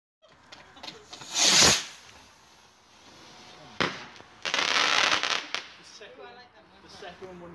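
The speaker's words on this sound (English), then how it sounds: "Man, I hate fireworks." Fireworks bang and crackle outside at night, a loud burst near the start, a sharp pop midway and a long crackling volley after, with someone talking between blasts.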